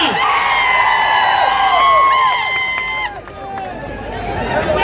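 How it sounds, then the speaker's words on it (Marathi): A large crowd at an election campaign rally in Deglur cheers loudly with whistles and shouts rising and falling over several seconds, a dense, lively roar of many voices. "या ठिकाणी जोरदार टाळ्या एकदा पवन कल्याणजी साहेब यांच्यासाठी होऊन जाऊ द्या"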